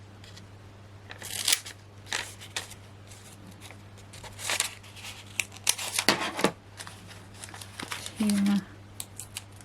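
Scissors snip through paper during a card-making craft session, giving a series of short, close, crisp cuts with pauses between them and a faint background hum.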